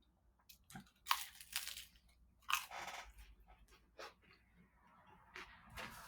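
Close, quiet bites into the crunchy crust of an Aldi Take 'N Bake Mega Meat pizza, with a few sharp crunches followed by softer, irregular chewing.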